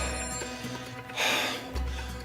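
A telephone rings indoors, a repeating electronic trill with a brief louder burst, heard alone without voices.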